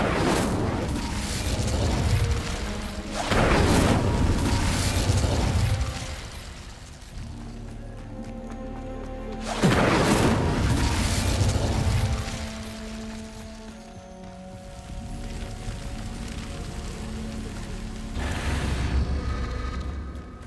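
Repeated Incendio fire spells cast in Hogwarts Legacy, loud whooshing bursts of flame arriving every few seconds over a rumbling low game soundscape.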